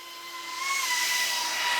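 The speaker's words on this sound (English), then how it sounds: "Now it makes a little bit of noise for sure. It's not a silent drone at all." A DeepspaceFPV Stellar 25 FPV drone with a plastic frame hums in flight with a steady layered whine of motor tones over a rising airy hiss, fairly faint and continuous with no voices.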